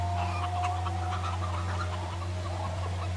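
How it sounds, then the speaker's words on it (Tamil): Chickens cluck and chatter in Forza Horizon 5, short scattered clucks at moderate distance over a steady low engine-like hum, with no talking. "இந்த கோழிங் வேறு சுற்றினே இருக்குதுங்க அங்கே இங்கே"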